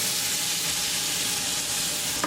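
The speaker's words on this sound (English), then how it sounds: "So this is the paneer and we're going to mix it raw" Tinda paneer sabzi is stirred in a pan over a medium gas flame, giving a dense, even sizzle with a scraping stir that stays constant and close, ending in a brief knock.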